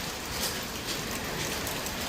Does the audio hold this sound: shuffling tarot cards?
no